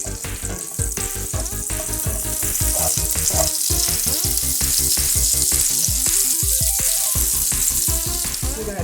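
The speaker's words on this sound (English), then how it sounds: "We have this on high heat right now, so it is cooking our andouille" Andouille sausage frying on high heat crackles in a loud, dense, continuous sizzle with rapid popping throughout, alone without speech.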